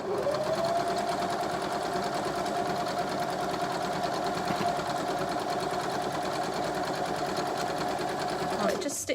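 A sewing machine running steadily while stitching quilt block pieces together, a close, even whirring hum that holds for several seconds before stopping abruptly, with a voice faintly underneath.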